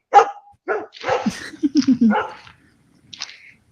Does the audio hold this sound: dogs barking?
yes